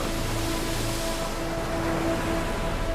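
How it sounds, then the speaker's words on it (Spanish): Storm waves battering a ship at sea make a dense, continuous roar of surging water and wind, loud and unbroken from start to finish, with no voices. "Las olas sacuden el navío mientras en el cielo se desata el infierno"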